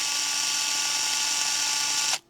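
A single-speed Panasonic EXENA electric screwdriver, rated at 850 RPM and charged by USB-C, runs with a steady high-pitched motor whine held for about two seconds, close and loud, then stops abruptly.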